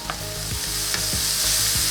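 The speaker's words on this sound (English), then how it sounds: "the vegetable all in, salt, pepper, and we're gonna saute them." Vegetables sautéing in a pan with salt and pepper, a loud close continuous sizzle with rhythmic stirring scrapes, no talking.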